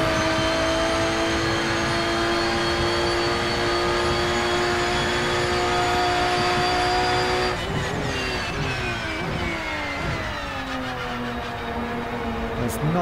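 Porsche GT3 racing car in the sim racing game Rennsport at Hockenheim, its engine howling steadily at high revs with a slightly whiny tone, then dropping sharply and climbing again through gear changes and braking, loud and alone.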